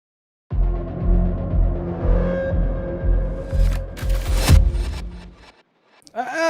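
A designed gun sound effect with a reversed layer, heard as a series of heavy rhythmic mechanical thumps that swell into a sharp rising burst before cutting out, followed by a brief fluttery tail.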